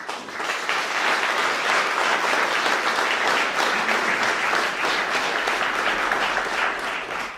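Sustained audience applause at a presidential World AIDS Day commemoration, a dense, steady wash of many hands clapping at even loudness for about seven seconds, with no speech over it.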